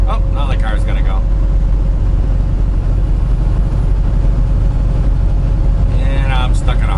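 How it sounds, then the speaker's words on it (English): A car pulls away in road traffic, with a loud, steady low engine and road rumble close by, an ongoing tone above it, and brief voices near the start and end. "Oh, now the car's gonna go."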